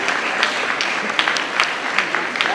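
An audience claps steadily for an honoree as a woman comes forward to receive an award on her behalf, a dense patter of hands with a few sharper claps standing out.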